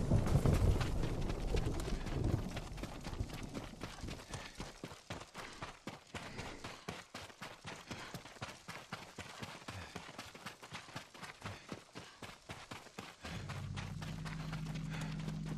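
Horse hooves clip-clop in a quick, steady rhythm over a rushing background in the video game Ghost of Tsushima, then the hoofbeats stop and a low hum takes over.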